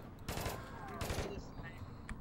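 Gunfire from the APB Reloaded video game, a quick burst of sharp shots ringing out in the middle of loud, busy game sound.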